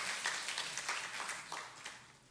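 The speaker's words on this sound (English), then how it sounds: "Give a round of applause to JGSOM." Applause from a crowd at a faculty day ceremony, a soft continuous patter of many hands clapping, heard from a moderate distance and tapering slightly.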